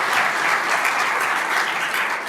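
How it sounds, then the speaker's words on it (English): At a county staff excellence awards ceremony, an audience breaks into a round of applause for a team, dense and sustained clapping filling the room without speech. "round of applause for Adam and his team"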